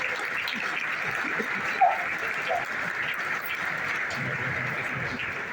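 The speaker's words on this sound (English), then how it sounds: "Big round of applause for these parents because they have sacrificed their life." Sustained crowd applause at a first-year engineering orientation program, the audience clapping steadily for the students' parents throughout, with faint voices underneath.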